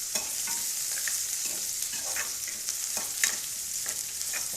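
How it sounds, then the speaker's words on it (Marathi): Onion frying in a pan for a village-style cowpea leaf dish, a continuous sizzle with irregular scraping stirs of a spatula, close and steady with no speech. "कांद्याला आपल्याला अजून मधून हलवीत राहायचं आहे तर कांदा फ्राय झालेला आहे"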